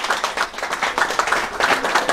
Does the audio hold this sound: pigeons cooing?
no